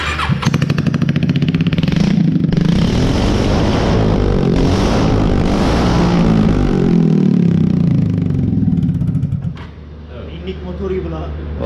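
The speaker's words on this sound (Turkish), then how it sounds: "Motor tekrar çalıştıracağız." A Honda Dio scooter engine runs close by with a loud, steady, buzzing idle and a slightly raised rev, then drops to a lower idle near the end.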